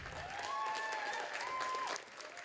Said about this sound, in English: Can we continue that round of applause for the Riverside Poetry Club?